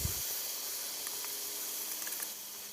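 Meat already rich in spices goes into hot oil and gives off a steady, close, broadband sizzle that holds evenly throughout, with no voices over it.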